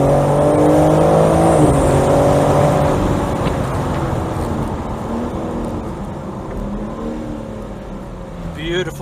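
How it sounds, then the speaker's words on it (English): A 2022 BMW M4 Competition Convertible with an inline six-cylinder twin-turbo engine pulls hard, a loud rising engine note that climbs, shifts and fades somewhat as the car accelerates away. "that inline 6-cylinder engine, that twin turbo, and 650 newton meters of torque"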